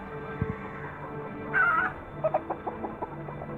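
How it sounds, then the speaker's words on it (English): Chickens squawk in alarm behind a house at night, a sustained cry followed by a string of short sharp clucks, fairly distant and not very loud. "the sound of chickens screaming loudly came from behind the house, the sound of flapping wings."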